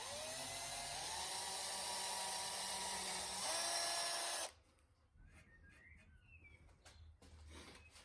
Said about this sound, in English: I continued by drilling a 3mm pilot hole at the centre point.